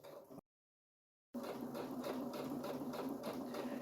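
A sewing machine top-stitches white thread on fabric for a notebook pencil pouch, a quiet, steady, rapid mechanical chatter that starts after a brief silence and runs evenly to the end.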